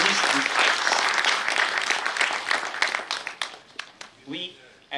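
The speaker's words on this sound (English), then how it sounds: "Let us give a round of applause for their hard work and painstaking efforts to reach these heights." An audience at a civil engineering department award ceremony applauds alumni rank holders with dense, sustained clapping that gradually thins out and fades, ending with a brief voice.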